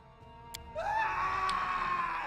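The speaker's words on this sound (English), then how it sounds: "a scream echoes from the hallway" A scream echoes down a hallway in the video game Pathfinder: Kingmaker, a loud, sustained cry that rises sharply and holds steady over low background ambience.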